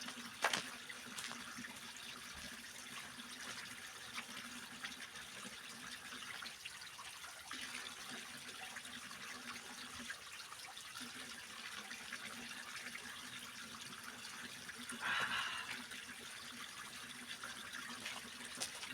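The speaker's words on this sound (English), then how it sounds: "I'm gonna close the video with a sip of water here in the fountain" Water from a public drinking fountain runs in a steady, soft gush, continuous and fairly faint, with a slight swell near the end.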